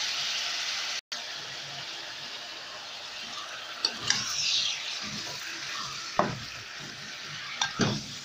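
Meat for kebab frying in ghee in a pot: a steady hissing sizzle with a few scraping stirs and clanks of a spoon against the pot, close and fairly quiet, without talk.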